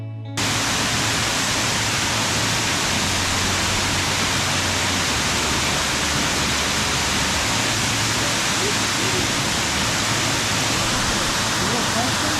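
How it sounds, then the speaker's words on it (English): Escondido Falls, a tall waterfall in the Santa Monica Mountains of Southern California, gives a constant dense rushing hiss from close by, unbroken from start to end. "this waterfall is absolutely massive for Southern California"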